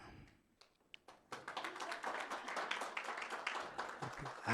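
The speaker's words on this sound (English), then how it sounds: "You are not clapping well for the judges" An audience claps at an award ceremony for a competition. A few scattered taps come first, then the applause swells into dense, continuous clapping that stays faint and distant.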